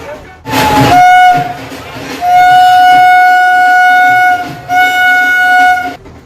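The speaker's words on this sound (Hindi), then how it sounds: "और फिर सीटी मारते हुए इंटरसिटी ट्रेन चल पड़ी।" An intercity train at Katrasgarh station sounds a long, steady whistle blast, then a second sustained blast after a short gap, loud and close, with a brief burst of noise at the start as it pulls away.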